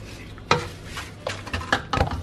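Potatoes tossed with seasoning in a dish, a few scraping, clinking strokes of a utensil against the dish at close range with brief pauses between them, no voices.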